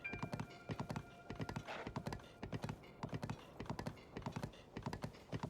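Horse hooves clip-clopping in Zelda Tears of the Kingdom, a steady close rhythmic trot of crisp hoof strikes continuing throughout, with a brief brighter rustle midway.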